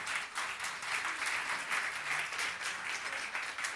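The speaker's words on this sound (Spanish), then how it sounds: "Denle un aplauso al Señor por eso, aleluya." A church congregation applauds during a Spanish-language sermon, a steady wash of clapping from many hands that holds at an even, moderate level throughout without talk over it.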